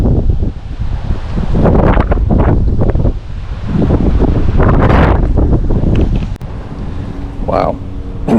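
Strong wind buffets a microphone outdoors on a fishing trip, loud rumbling gusts that surge and ease over several seconds, with a voice faintly audible beneath the roar.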